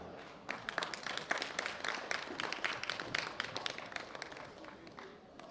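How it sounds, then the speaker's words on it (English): An audience applauds a silver medalist at a powerlifting bench press championship, a dense patter of many hands clapping at moderate distance for several seconds, steady and unbroken with no voices on top. "Big round of applause for Vadim Malaiko"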